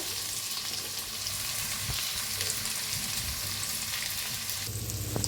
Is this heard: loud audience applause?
no